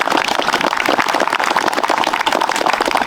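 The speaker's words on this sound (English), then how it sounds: "how about a round of applause?" Outdoor crowd at a housing groundbreaking ceremony claps, a dense, continuous burst of applause from many people, loud and close throughout the short stretch.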